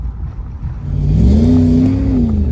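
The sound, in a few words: Pontiac Formula Firebird engine revving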